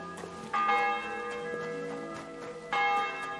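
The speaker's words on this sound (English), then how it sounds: "The 11th toll of the bell." Church bell tolling in the medieval video game Kingdom Come: Deliverance II, two ringing strikes with long harmonic decay, clear and fairly near, no talking.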